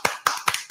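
Four sharp hand claps spaced evenly in quick succession, close and fairly loud, applauding a shirt prize winner during a podcast.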